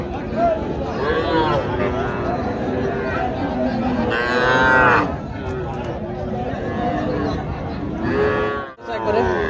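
Local-breed heifer calves at the Raniganj cattle market in Dinajpur moo loudly and repeatedly nearby, over a steady hubbub of crowd chatter and voices.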